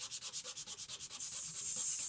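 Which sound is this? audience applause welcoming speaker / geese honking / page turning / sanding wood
sanding wood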